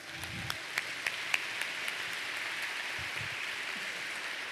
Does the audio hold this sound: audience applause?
yes